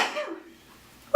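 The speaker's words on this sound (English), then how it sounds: "I'm about to sneeze." A single sharp sneeze bursts out close up at the very end, after a moment of quiet breathing and a soft fading voice.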